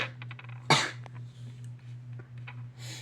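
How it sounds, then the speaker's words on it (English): A single sharp sneeze bursts out over a steady low hum, followed by quiet shuffling and faint noises. "I had to sneeze again."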